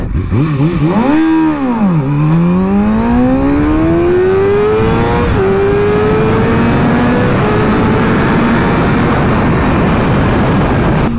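A motorcycle launches from a standstill and accelerates hard, its loud close engine note climbing steeply through a rev flare and then rising steadily through the gears with brief shift dips, continuous throughout.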